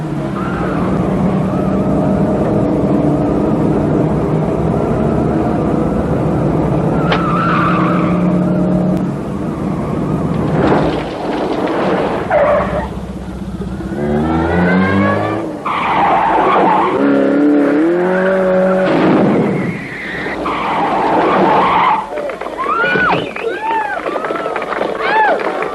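A Montego 1.6L car driven hard, with loud tyre skidding and squealing over a revving engine, several screeching slides in succession, close and prominent with music beneath.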